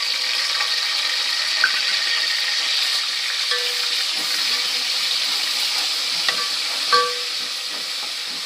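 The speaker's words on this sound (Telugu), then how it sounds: "ఇప్పుడు ఇందులోనే అల్లం వెల్లిగడ్డ పేస్ట్ అయితే వేసుకున్నా." Ginger garlic paste fries with onions in a pan for a Telangana-style curry, a steady soft sizzle with a few faint clinks of stirring.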